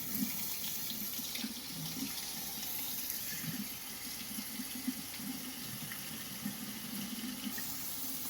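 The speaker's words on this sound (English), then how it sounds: "Now I'm just gonna let my sink get hot and just run some fresh water over it." Hot tap water runs steadily from a faucet into a kitchen sink, a continuous close splashing and hissing stream with no talking.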